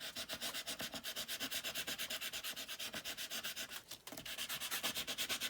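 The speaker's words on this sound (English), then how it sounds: "let's just sand that down a bit." Hand sanding of a small wooden piece made for a playing-card craft, a close rhythmic rasp of back-and-forth strokes at an even pace with one brief pause, no talk.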